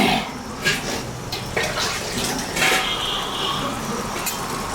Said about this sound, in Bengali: এখন আর একটু জল দেব, সোয়াবিন পনির তাহলে